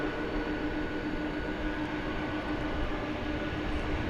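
An American Airlines jet, flight 972 bound for Austin, rolls for takeoff at night at DFW Airport, its engines producing a steady, distant broadband roar with a faint tonal hum that holds constant throughout.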